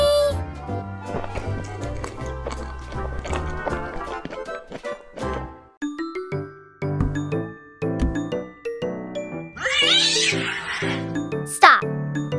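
A cat meows on a miniature fondant cake decorating set, the meows high and bright near the end over a busy backdrop of light tapping, tinkling and cheerful music.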